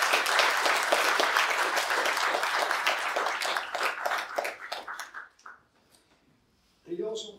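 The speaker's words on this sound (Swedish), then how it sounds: "Vi ger honom en applåd." An audience at a talk in Umeå, Sweden, claps loudly, the applause thinning into scattered claps and fading to near silence before a voice begins speaking.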